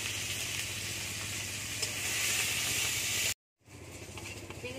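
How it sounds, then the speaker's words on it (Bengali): Prawns frying in oil with salt and turmeric give a loud, steady sizzle and hiss that cuts out abruptly for a moment, then resumes a little softer. "চিংড়ি মাছটা ভাজা হয়ে গেছে"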